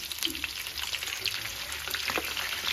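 Eggs and potatoes fry in a pan for biryani, giving a steady close sizzle with crackling pops and soft stirring scrapes throughout.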